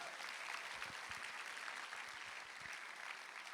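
Congregation applause in a church service, a steady, even wash of many hands clapping, fairly faint and distant, continuing without a break.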